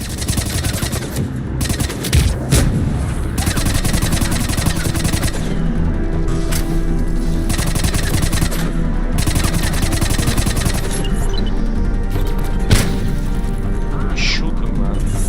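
Rapid bursts of gunfire from a firefight in Mass Effect 3 on hardcore difficulty on PC, dense and continuous over about fifteen seconds, layered with mechanical clatter and battle noise, with voices now and then.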